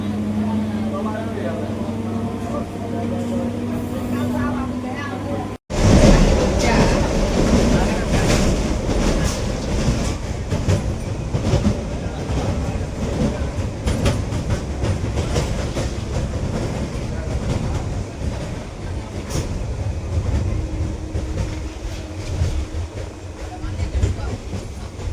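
An Indian passenger train runs on the rails near Sitarampur station, a loud steady rumble with rhythmic clickety-clack of the wheels over joints. A sharp break early on gives way to louder, closer running noise.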